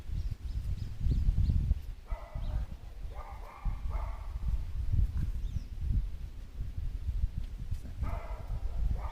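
A female dog barks repeatedly at a quiet country house, in short clustered bursts at moderate distance over a low rumbling background.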